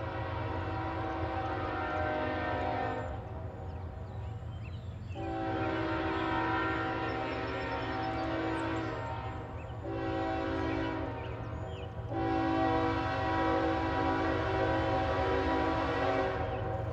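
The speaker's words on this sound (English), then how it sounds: "Hundred coal empties are returning west with a heavy variant ES44AH and hockey stick YN2 liveried AC44CW at the head." A westbound coal train of empty hoppers led by an ES44AH and an AC44CW locomotive sounds its horn in four long, loud blasts over a steady rumbling engine drone.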